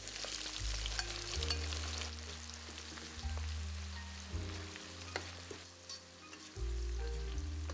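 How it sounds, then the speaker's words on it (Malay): Loud sizzling and crackling of garlic frying in hot oil in a wok, with occasional stirring scrapes and low hum from a stove fan throughout. "goreng bawang putih dulu. Barulah goreng sayur-sayur lain."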